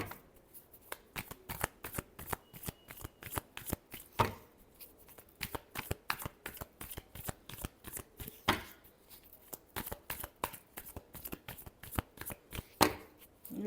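Tarot cards are shuffled by hand, close and quiet, making a quick run of crisp slaps and riffles in an uneven rhythm, with brief pauses between bursts.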